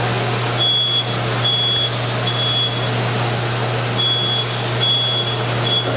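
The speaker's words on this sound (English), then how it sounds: "Smoke alarm went off." Short high electronic beeps from a smoke alarm sound in bursts while cooking pizza, a few rapid pulses at a time with pauses between, over a steady low hum.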